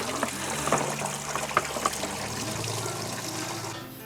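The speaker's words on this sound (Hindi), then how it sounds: "तो 3 केन हमने भर लिया है और इसके अंदर 40 लीटर भरा जाता है" Spring water pours into 40-litre cans at a camper van, a steady rushing trickle with small splashes and clinks, close and continuous, fading out at the very end.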